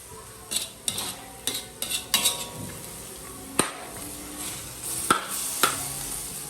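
Vegetables for pancit canton are stirred in a pan, with a utensil clanking and scraping against the metal in irregular knocks over a faint sizzle.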